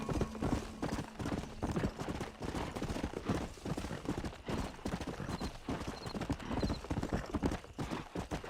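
Horse hooves clip-clop steadily through the Red Dead Redemption game world, a dense galloping rhythm over busy background sound, with a brief whinny-like sound and faint high chimes partway through.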